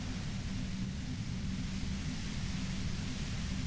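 Steady broadband static hiss within the Disco Elysium video game, constant and fairly loud, with an even, unbroken texture and no talking.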